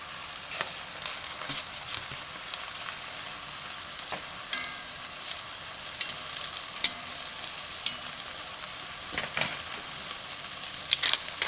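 Sliced sausage, onions, bell peppers and mushrooms sauté in a pan with a soft, steady sizzle and scattered sharp clicks and scrapes from stirring, fairly quiet and close, with no talking.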